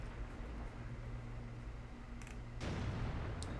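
A tank cannon shot in the World of Tanks video game lands as one sudden booming blast late in the clip, rising out of a faint, steady background hum.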